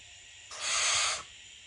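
A hungry baby barn owl gives a single rasping, hissing food call lasting under a second, close and fairly soft against a quiet background.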